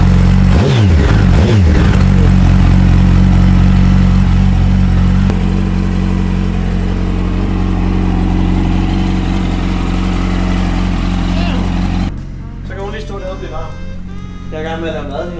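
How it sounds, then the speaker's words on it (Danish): A car engine idles while warming up so the oil circulates, a steady low rumble throughout with a brief rev near the start, then quieter and masked by street noise and talk toward the end. "Den skal lige lov til at stå og blive varm en gang imellem, så motoren lige kan blive, du ved, smurt"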